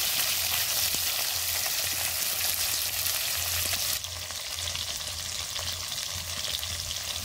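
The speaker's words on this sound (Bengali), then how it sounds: "মাছগুলো বন্ধুরা হালকা করে ভেজে নিয়েছি, এখন তুলে নেব।" Chela fish fry lightly in oil for a spicy fish curry, a dense, even hiss of sizzling that carries on without pause and drops slightly in loudness partway through.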